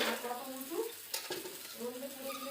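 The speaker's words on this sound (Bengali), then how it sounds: "একটু ভাজিয়ে রাখলে তাই ভাজিয়ে নিচ্ছি ওটা" Steady sizzling of food frying in a pan, with a stirring scrape partway through, close and moderately loud.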